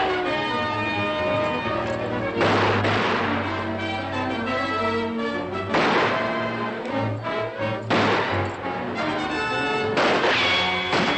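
Classic western shootout: sharp gunshots crack out in several separate bursts over a dramatic orchestral film score.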